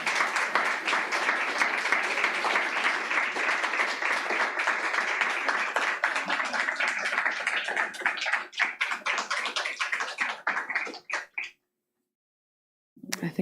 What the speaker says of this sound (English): Another round of applause for Erin.